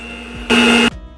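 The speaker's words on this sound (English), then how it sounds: "And we're going to blend that." A blender whirs loudly for about half a second, blending milk cake batter, then cuts off abruptly, leaving a faint background hum before and after.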